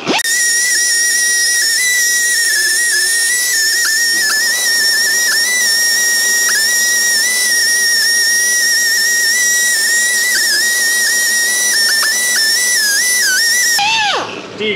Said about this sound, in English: we'll use a pneumatic polishing wheel